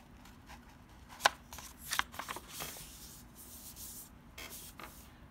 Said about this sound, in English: fold the paper in half